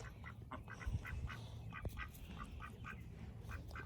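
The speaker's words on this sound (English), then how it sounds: "these ducks are having a really good time" Ducks on a homestead on a cold day give a run of repeated, evenly spaced quacks from several birds at moderate distance over a low background rumble.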